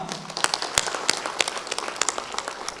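At a Demokrat party officials' inauguration ceremony in Riau, a small crowd claps in scattered, sharp individual claps, moderately distant and fairly quiet, for a few seconds.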